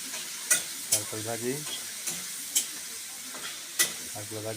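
Homegrown teasel gourd being stir-fried in a pan, with a steady close sizzle broken by a few sharp spatula scrapes and knocks, while a voice talks quietly over the cooking.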